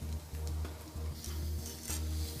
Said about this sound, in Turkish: Ve etimizi dördüncü çevirişimizi yapıyoruz